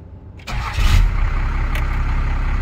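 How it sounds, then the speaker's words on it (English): A first-generation pickup truck's engine cranks and catches, rising to a loud rumble before settling into a steady, close idle. "And we'll start the truck and we'll see if the tach works."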